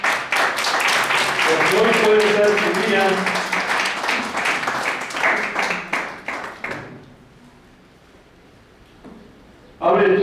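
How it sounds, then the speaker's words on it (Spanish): A church congregation claps hands together during a Spanish-language service about receiving the power of the Holy Spirit, a dense burst of applause mixed with a preacher's voice for about seven seconds before dropping to quiet. "Pues dale palmas a Cristo"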